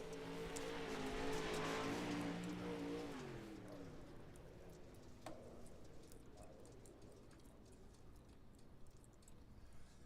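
A Pro Late Model race car in iRacing at Limaland drones past with a rising then falling engine tone that fades after a few seconds, leaving a quieter engine hum with faint ticks and clicks, under faint talk.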